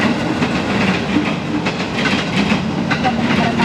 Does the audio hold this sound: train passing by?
yes